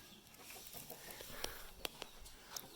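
A rooster clucks faintly in the distance among outdoor ambience at a village school near Kulen National Park, Siem Reap, with a few brief sharp sounds scattered through.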